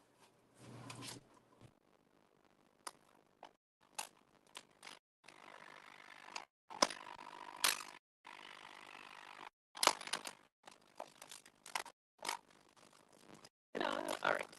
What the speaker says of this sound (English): I'm just going to run this through the die cut machine